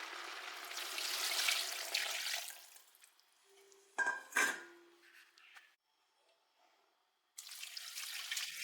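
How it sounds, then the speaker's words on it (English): Water pours into a cooking pot for a saucy Hungarian wild beef dish: a hissing stream for a few seconds, a pause with a couple of clinks and knocks, then a fresh rush of pouring at the end. "then pour in enough water to cover the whole dish."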